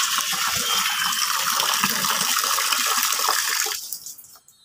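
Water gushes steadily from a tap to soak clothes, a loud close splashing rush that stops abruptly near the end.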